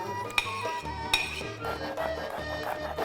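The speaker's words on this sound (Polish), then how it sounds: "Olej wymieszać z octem, dodać posiekany koper, ziele angielskie, majeranek, cebulę" Oil being stirred with vinegar, chopped dill, allspice, marjoram and onion for a herring marinade, with steady clinks and scrapes of a utensil against a bowl and two sharper knocks.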